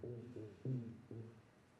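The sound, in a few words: underwater recording of a black drumfish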